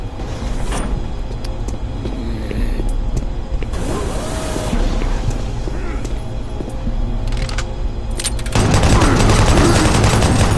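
Gunfire from a weapon in Doom 3, a busy run of shots over a steady rumbling game background, growing louder and harsher toward the end.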